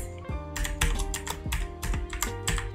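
Keys clicking on a computer keyboard in short uneven bursts of taps, close and fairly crisp, with a steady tonal hum underneath and no voice.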